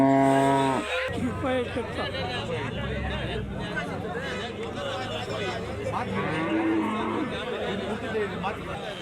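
Cattle moo at a busy cow market, a drawn-out low bellow opening the scene, then a crowd of people chattering loudly while more lowing animals sound in the background.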